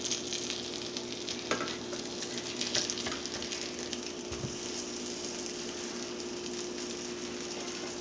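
Biscuits fry in a pan of olive oil and butter with a steady, continuous sizzle and crackle throughout, broken by a few soft clinks from utensils, with no talking.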